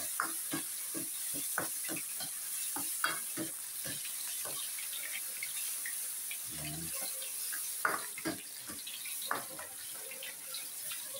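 Buro, fermented rice, being sautéed in a pan gives a faint steady sizzle, with intermittent clinks and scrapes of a utensil stirring against the metal.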